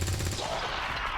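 Soldiers fire on enemy troops in XCOM 2, a short, dense burst of rapid gunfire that starts loud and fades to a softer rattle.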